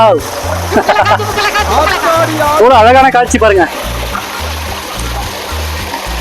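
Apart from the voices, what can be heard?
small waterfall water pouring and splashing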